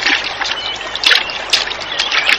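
Splashing and trickling river water as someone washes their face at a clear riverside, with soft bursts of scooped water and dripping close by, no talking.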